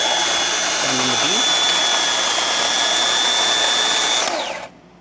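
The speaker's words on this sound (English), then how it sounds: "Now this grinder right here" A DeLonghi espresso machine's built-in grinder, fresh from a full tune-up, grinds coffee beans: a loud, close, steady motor whine with a high tone that holds for about four seconds, then winds down and cuts off.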